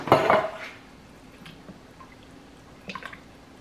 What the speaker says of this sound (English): now we're going to add in those butter beans here